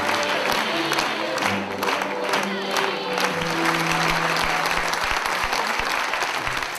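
Long, sustained applause from an overseas audience after a Yue opera performance, a dense clatter of many hands with some crowd noise mixed in, steady and close throughout.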